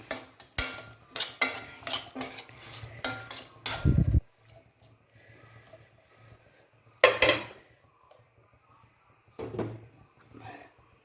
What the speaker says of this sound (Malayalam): ഇതിന് നമുക്ക് മൂടി വെച്ച് വേവിക്കാം